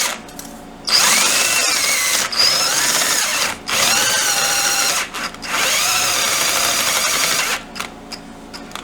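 A cordless drill bores holes in a part for a 1959 BSA C15T motorcycle in several loud, close bursts of high whine, each around one to three seconds long, broken by brief pauses.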